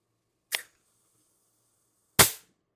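Two sharp, isolated pops from an IntruBuster Gen 2 airsoft gun fitted with an MCS 7.5-inch barrel extension, the second louder than the first, close up with silence between.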